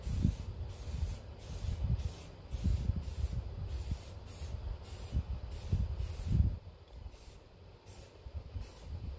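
A spray can coating new headers for a Ford F150 gives repeated bursts of hissing spray, about a dozen short close pulses in an even rhythm, with faint low handling noise and no talking.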